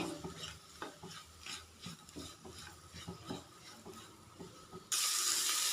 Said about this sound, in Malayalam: ഉള്ളി നന്നായിട്ട് വാടി വരുന്നവരെ ഇളക്കി കൊടുക്കുക